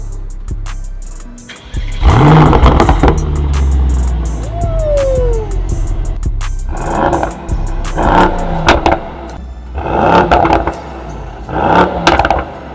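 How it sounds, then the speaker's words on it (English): A Mercedes-AMG GT63 S fires up and its engine is revved several times, with loud, close bursts of roar rising and falling over about ten seconds, plus clatter and some talk mixed in. "you hold down this left paddle shifter, you hold the brake, and you start the car"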